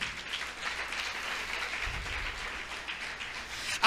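Congregation in a church service applauding, a moderate, continuous patter of clapping hands at middle distance, fairly even throughout with a low thump near the middle and a sharp noise at the very end.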